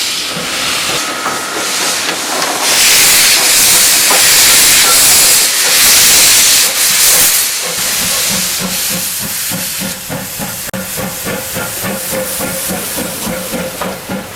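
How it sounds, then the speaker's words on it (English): A Pacific steam locomotive pulls away from a station platform, loud hissing steam dominating before rhythmic exhaust chuffs emerge and quicken as the train gets moving, heard close and alone. "With a powerful bark coming from the exhaust, the Pacific makes for an awesome sight and sound in departing"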